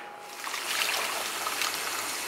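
Vegetables for Japanese oroshi ponzu chicken being rinsed under running water, a steady close hiss and splash of flowing water that holds throughout, with no talking.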